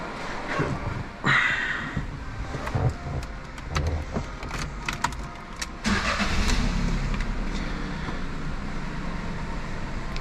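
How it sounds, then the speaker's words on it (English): A 2021 Fiat 500 with a 1.0 engine cranks and fires up after a service, then settles into a steady running idle close by, with a few clicks and knocks over the drone. "we're going to start the engine and run it for about 30 seconds"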